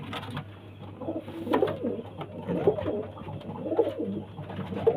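Domestic pigeons kept for sale coo in steady repeated low throbbing phrases close by, with a soft constant hum underneath.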